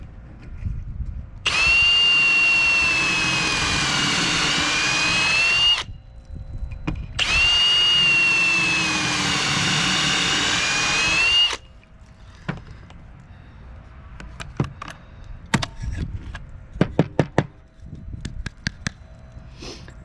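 A power drill fitted with a Kreg jig bit bores two pocket holes in wood framing, two sustained whining bursts of several seconds each, followed by scattered clicks and knocks of handling.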